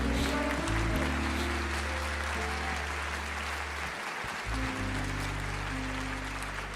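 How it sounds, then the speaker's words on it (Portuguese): Sustained applause from a large church congregation, steady and full, with a musical backing underneath. "A igreja aplauda ao Senhor"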